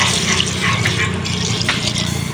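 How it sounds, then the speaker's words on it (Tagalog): Water runs from a tap into a cooking pot as a ginataan is prepared, a steady close-up splashing rush lasting a couple of seconds. "sasalang ko lang po sa kaserola at lalagyan ko lang po ng tubig"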